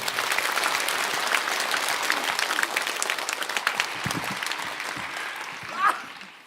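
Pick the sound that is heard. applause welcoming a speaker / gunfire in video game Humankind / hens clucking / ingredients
applause welcoming a speaker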